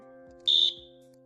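A single shrill beep from a handheld personal safety alarm, high-pitched and steady, lasting about a quarter second, close and loud over a low background hum.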